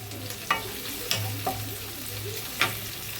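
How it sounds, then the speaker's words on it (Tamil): Curry leaves hit onions sautéing in oil for a vegetable kurma, a close sizzle punctuated by a few sharp spitting pops and light stirring scrapes, no voices. "வெங்காயம் கொஞ்சம் வதங்கும் போதே நம்ம கருவேப்பிலை வச்சுருந்தோம்"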